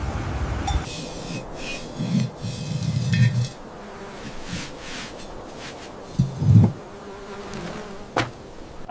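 Bees buzz around honey hives along a narrow cliff trail, a faint steady drone with occasional louder passes near the listener and a few light clinks.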